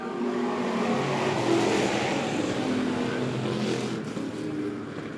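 USRA stock cars racing at Monett Motor Speedway, a steady roar of engines down the backstretch at a dirt oval, heard from a distance as a continuous dense drone with no one speaking.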